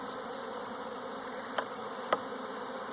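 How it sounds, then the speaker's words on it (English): Honey bees buzzing around an opened hive during a removal, a steady close drone of many wings with two brief sharp taps partway through. "They're going to fly all around this hive, but tonight they'll go back in this hive because their queen is in here."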